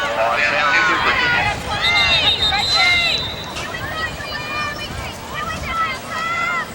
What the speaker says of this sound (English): Nice crowd here at Hopkins.